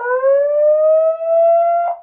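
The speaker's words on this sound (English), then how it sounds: "The alarm from the camera wasn't anywhere near loud enough to alert me to motion" An Annke Crater Pro indoor security camera sounds its alarm siren, a loud, close electronic tone that rises and holds in two long sustained blasts with a brief dip between them.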